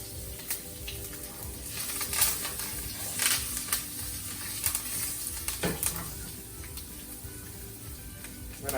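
Curry leaves and four green chilies fry in hot oil with a lively, close sizzle, stirred now and then with scraping clicks and sharper bursts, continuing steadily without any talking.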